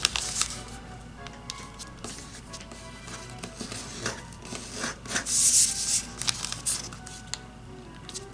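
Origami paper is folded into a cat head with hidden teeth: soft rubbing and rustling as corners are creased, with a few sharper crinkles and scrapes up close.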